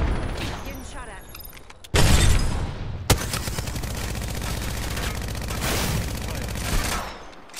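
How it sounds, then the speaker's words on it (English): Dense automatic gunfire in the video game Apex Legends: loud, rapid bursts with a sharp jump in intensity partway through and a single hard crack, then sustained fire throughout. "Getting shot at."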